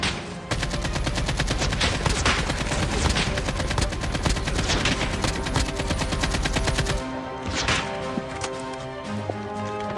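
Rapid automatic fire from an MSMC submachine gun in Call of Duty Mobile, sustained loud bursts of closely spaced shots with a brief slackening near the end as the firing continues.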